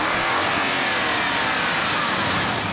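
A V8 biturbo car engine revs loud and close, a steady, dense roar that holds throughout with no voices over it.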